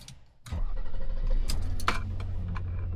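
A car engine catches and settles into a steady idle right after its engine bay has been pressure washed, with a quiet lead-in before the start, then a continuous close rumble punctuated by a few brief clicks.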